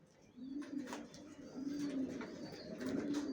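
Racer pigeons in a loft cooing in repeated low, throaty phrases, close by and fairly soft, with no talk.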